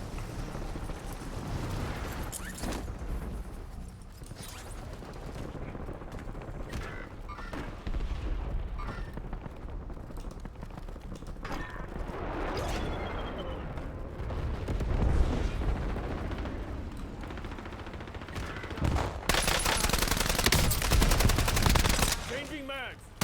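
Voyak KT-3 firing in Call of Duty Warzone, with repeated close bursts of automatic gunfire and booms amid a dense, loud game soundscape and occasional voice callouts.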